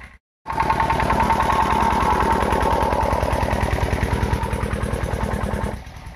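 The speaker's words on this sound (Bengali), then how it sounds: "ওই যে মেশিন চলছে" A diesel water pump engine runs steadily in a farm field, irrigating a tuberose crop through a pipe; a loud, close, even rhythmic chugging continues without a break after a brief silent start and fades slightly at the end.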